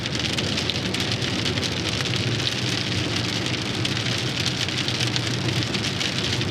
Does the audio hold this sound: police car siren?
no